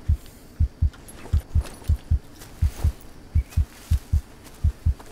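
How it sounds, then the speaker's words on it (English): A heartbeat in the survival game Green Hell thumps in low, loud double beats, roughly a dozen paired pulses at a steady quick rhythm, with no talk over it. "Oh my, I can hear my heart beating."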